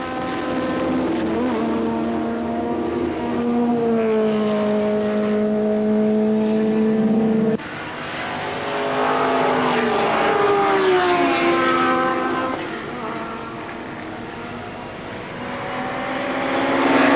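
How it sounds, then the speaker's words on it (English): Several racing engines, including a Ferrari 512S, roar past at high revs on a circuit, pitch sliding as they approach and recede, one car overtaking another in a continuous loud stream. "The quicker cars lapping the slower."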